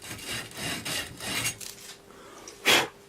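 A cleaning strip scrubs back and forth on a copper pipe fitting in rhythmic rasping strokes, close and moderately quiet, fading out before one louder scrape near the end.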